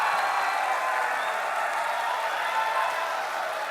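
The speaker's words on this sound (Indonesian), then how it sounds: "Kita berikan tepuk tangan." Studio audience applause at a 2014 Indonesian presidential election debate, a steady, dense wash of clapping that holds evenly for a few seconds without a break.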